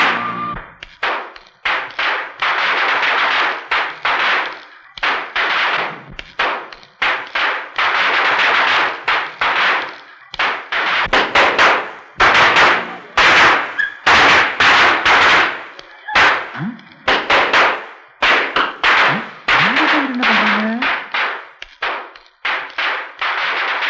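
Strings of firecrackers burst in rapid crackling volleys of sharp, loud pops during a town-wide celebration, dense and continuous with brief gaps. A low voice sounds briefly near the end.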